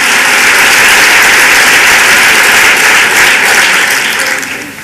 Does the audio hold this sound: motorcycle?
no